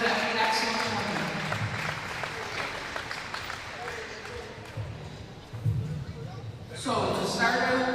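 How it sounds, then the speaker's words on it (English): Spectators at a women's national championship gold medal game applaud from the stands, with the clapping and crowd noise mixed under an announcer's voice over the arena PA. "I think you guys really should give yourselves a round of applause."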